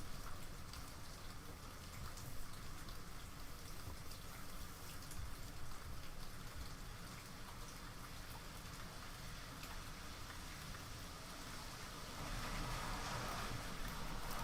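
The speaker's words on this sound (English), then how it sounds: "I love the sound of the rain." Rain falls steadily in a dense, even patter, a continuous close wash of drops that swells slightly toward the end.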